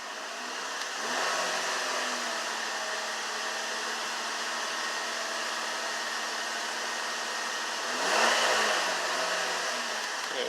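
A car engine idling steadily after a loose intake was fixed, a continuous broadband hum with a slight surge in level near the end, with no talking over it.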